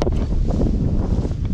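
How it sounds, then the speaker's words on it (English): Strong wind on a night fishing trip buffets the microphone in a continuous low, gusty rumble, with no voices. "But it's very windy."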